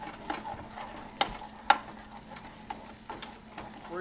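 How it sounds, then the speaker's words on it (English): Spoon stirring a thickening turmeric paste in a pan, with a soft low sizzle and a few distinct scraping clicks spaced irregularly, close and fairly quiet. "But you just want to keep stirring it,"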